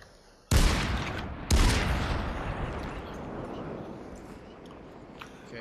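Two sharp, loud gunshots about a second apart in the VR shooter Population One, each followed by a long, fading echo tail and then quiet ambience.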